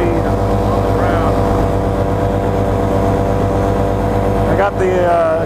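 A Black Hawk 125 paramotor engine with an overheating problem idles on the ground, giving a loud, steady, droning hum with a fixed low pulse that holds throughout, briefly dipping near the end before returning to the same level.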